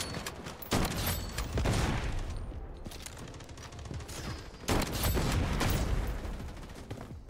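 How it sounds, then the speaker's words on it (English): Rapid bursts of gunfire from the Blood Strike shooter game, sustained and loud with a brief lull before another heavy volley. "What am I getting shot by? Who is shooting me?"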